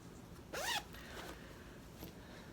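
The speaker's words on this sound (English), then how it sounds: "I'm zipping yarn." A zipper on a yarn bag is pulled in one quick rising zip, close but quiet, followed by faint rustling against a low background hum.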